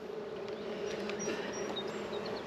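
Honey bees buzz steadily around an open hive, a continuous close drone with faint individual insects passing, and no voices.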